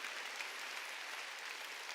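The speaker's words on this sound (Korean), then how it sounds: "깨달은 사람만 박수 치라." A church congregation claps together during a Korean sermon. The applause is a steady, dense wash that stays fairly faint and distant throughout, with no talk over it.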